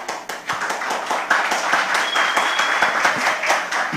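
A church audience breaks into loud, sustained applause, many hands clapping in a dense, steady roar that swells after the first half second and holds to the end.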